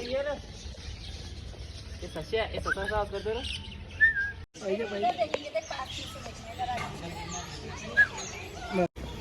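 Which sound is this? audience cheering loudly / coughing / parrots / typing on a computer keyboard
parrots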